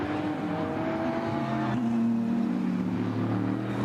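Mercedes and BMW race cars battling at a Nürburgring 24-hour qualifier race, a loud continuous engine roar with pitch shifts as they run side by side toward a chicane.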